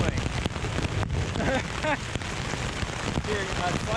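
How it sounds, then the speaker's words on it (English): Hail falls steadily during a thunderstorm at a lake, a dense continuous patter and hiss on surfaces, with a voice faintly present beneath the close, loud pelting. "God, it is hailing."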